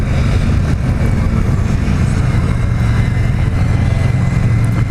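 A 2017 Victory Octane motorcycle runs steadily on a test ride, its engine giving a loud, constant drone mixed with road and wind rush throughout.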